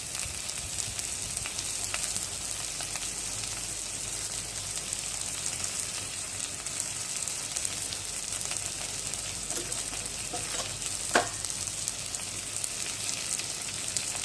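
Chili, cumin, coriander and a pinch of asafoetida frying in hot oil for a prawn and pointed gourd curry, a steady close sizzle with a few sharper crackles near the end, no talking.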